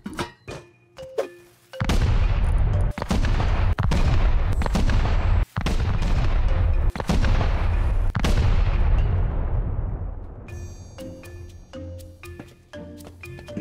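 Massive chain of explosive charges detonating during a base raid in the survival game Rust: a dense run of loud, booming blasts from about two seconds on, fading after ten seconds into scattered crackles.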